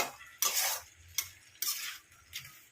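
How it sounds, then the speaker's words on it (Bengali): Fish head being stirred and sautéed with spices in a pan for a Bengali murighonto, four distinct scraping bursts of a utensil against the pan over a low steady sizzle, close and fairly loud, no voices. "এইভাবে মুড়ো দিয়েও ভালো করে খানিকক্ষণ কষিয়ে নেব"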